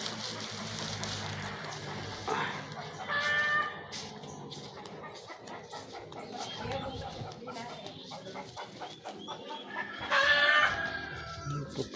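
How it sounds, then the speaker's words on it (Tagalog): Chickens clucking outdoors, with two louder clucking calls standing out over a busy background of other birds and ambient noise, fairly close, with some voices talking faintly around them. "Putak ng manok guys."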